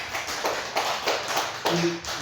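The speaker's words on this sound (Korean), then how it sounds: "박수 한번 쳐주십시다." A church congregation claps in a few loose, separate bursts, soft and slightly distant, with a brief tonal sound near the end.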